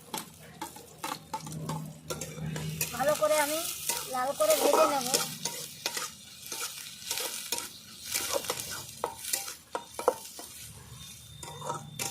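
Chopped onion, chili and garlic fry and sizzle in a pan for eggplant bhorta while a utensil stirs and scrapes repeatedly, with clinks of metal against the pan.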